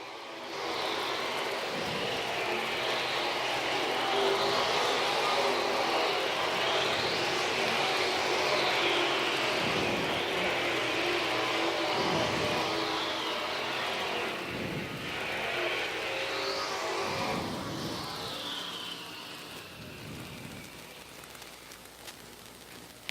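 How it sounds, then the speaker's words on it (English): Late model race cars run hot laps around a speedway during a summer jamboree, their engines rising and fading in repeated passes, moderately distant and steady, with a broad roar sweeping by every few seconds. "Hot lap sessions are going on."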